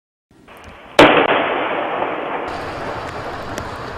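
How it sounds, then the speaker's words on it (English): A sudden sharp boom is followed by a rumbling, crackling tail that lingers and decays, with a few faint pops afterward. "A series of startling booms are being reported"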